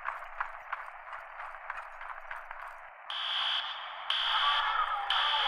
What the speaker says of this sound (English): Find the nearest fire alarm station and activate the alarm.